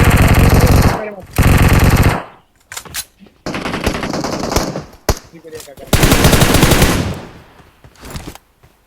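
Bursts of automatic gunfire from a battle in the mobile shooter Livik Rush: loud, rapid rattling volleys in three main stretches with short gaps, plus scattered single shots between them.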